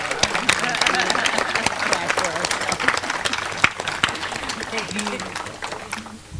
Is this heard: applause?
yes